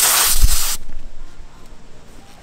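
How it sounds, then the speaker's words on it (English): Freon refrigerant squirts from an automotive AC hose fitting as a gauge is attached, a loud sharp hiss lasting under a second, then fading to quiet rustling handling sounds. "sometimes the Freon will squirt like that with a little cloud"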